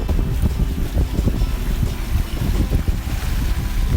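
A sailboat under sail heading into the wind, with a steady rush of wind buffeting the microphone and water washing against the hull in a continuous, fairly loud roar.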